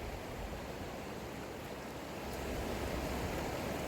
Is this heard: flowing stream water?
yes